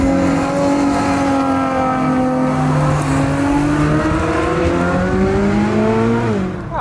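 A Ferrari F12 TDF engine revs hard while driving, its loud, close howl climbing steadily through the gears with brief dips at the shifts and a final drop as the throttle lifts.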